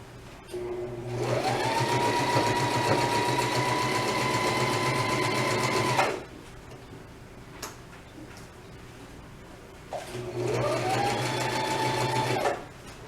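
Sewing machine stitching a tote bag seam, running in two steady bursts of about five and two and a half seconds with a rapid mechanical ticking rhythm and a rising whine as it speeds up, close and loud with no talk.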